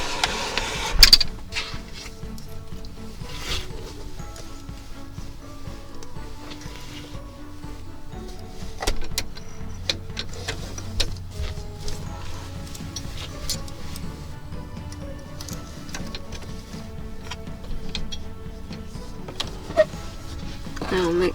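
Steady mechanical whir and ticking of a sewing machine stitching down neck binding on a garment, running continuously at close range with occasional clicks and pauses.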